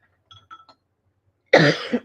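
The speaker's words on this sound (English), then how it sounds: "I still have a cough from COVID." A single harsh cough close by, following a few faint small clicks in an otherwise quiet room.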